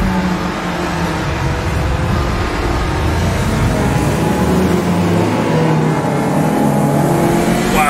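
A race car in the sim Automobilista 2 drives on a wet track, its engine droning loud and close with shifting pitch as it revs and eases under the hiss of spray, with no talking.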